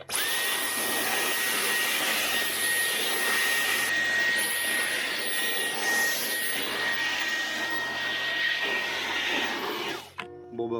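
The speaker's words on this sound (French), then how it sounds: "Dans des conditions difficiles avec l'embout suceur du Dyson et la puissance max." A Dyson stick vacuum cleaner with its crevice nozzle running at max power, a loud steady whine with broadband airflow roar, cutting off abruptly near the end.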